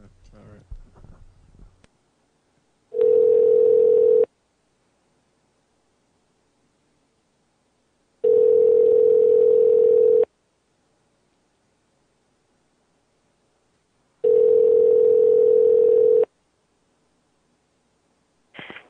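An outgoing telephone call rings three times as steady two-second tones separated by long silent pauses, after brief handling noise at the start.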